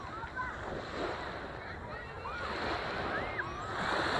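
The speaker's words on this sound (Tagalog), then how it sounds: "Ang ganda ng alon, no?" Sea waves wash onto a beach at night, a steady broad surf rush with swells rising and falling over four seconds, roughened by wind noise on the microphone.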